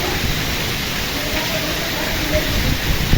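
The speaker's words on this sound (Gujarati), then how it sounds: "જોઈ લે મિત્રો અડધી કલાકથી વરસાદ કન્ટિન્યુ એવો" Heavy rain driven by wind in the middle of summer, pouring over farm fields and running off the eaves, a steady dense roar that fills the scene with no pauses.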